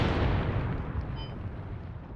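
Artillery rounds exploding in the WWII strategy game Mius Front, a dense, sustained low rumble of heavy blasts that is loudest at the start and eases slightly while continuing throughout, with no talk.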